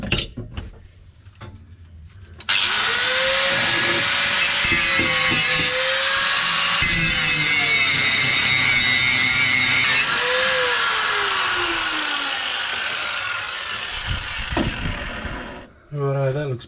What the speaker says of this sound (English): ground the head off with the grinder